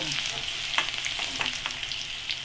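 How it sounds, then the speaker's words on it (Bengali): Bathua greens being fried in a pan until reddish, a soft continuous sizzle with a few light scraping stirs, fairly quiet and with no voices. "এটাকে লাল লাল করে ভাজতে হবে"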